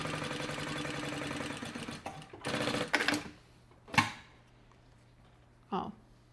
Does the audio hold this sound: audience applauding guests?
no